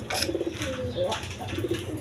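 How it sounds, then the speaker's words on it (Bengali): Pakistani teddy pigeons coo in a pen, two or three soft throaty bursts close by over low background noise. "পাকিস্তানি টেরি কবুতর।"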